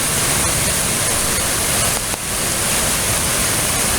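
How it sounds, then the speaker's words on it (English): Stream rapids swollen during a storm produce a loud, steady roar of rushing water that fills the whole scene without a break. "But look how much water is running through here."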